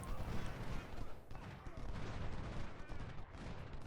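Rattling volleys of musket and artillery fire from an Ultimate General: Civil War battle at Saunders Farm crackle continuously at low volume, dense and overlapping throughout.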